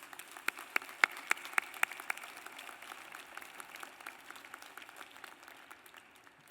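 A sparse round of applause at the WVU December 2019 commencement, with distinct scattered claps early on that soften into a faint patter in a large hall.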